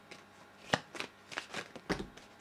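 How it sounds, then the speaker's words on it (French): Oracle cards being shuffled by hand in a quiet room, a run of soft papery riffles and slaps in irregular bursts, close and fairly faint, with no talk. "Je vais tirer juste une petite carte avec mon oracle"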